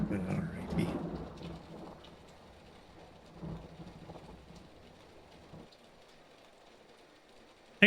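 A thunderstorm with rain in the video game Phantasmagoria: A Puzzle of Flesh, with a low rumble of thunder at the start and again later over a soft, steady patter of rain, then a sudden loud burst right at the end.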